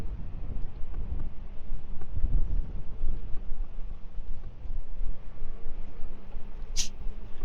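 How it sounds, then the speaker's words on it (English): Wind buffeting an outdoor microphone on the road, a gusty low rumble that rises and falls throughout, moderately loud, with a brief sharp high click near the end. "It's windy."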